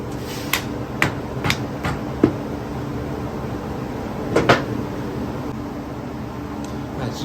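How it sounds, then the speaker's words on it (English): A hammer whacks the valve cover of a 1989 Evo Sportster engine: about six sharp, separate metallic knocks at an uneven pace, a close pair near the end, over a steady background hiss with no talking. "just gave it a couple whacks with the hammer"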